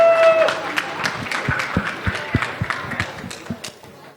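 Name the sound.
audience applause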